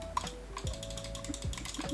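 A retro-style Lofree Touch computer mouse clicks in a quick series of crisp, close taps over soft background music.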